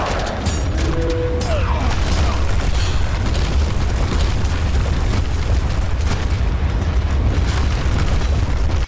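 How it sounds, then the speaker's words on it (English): A meteorite strike in the video game Age of Mythology sets off a loud, deep explosion that rolls into a long, sustained roar of rumbling debris. "Another meteorite right here."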